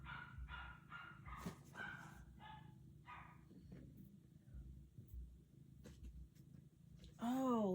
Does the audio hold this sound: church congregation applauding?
no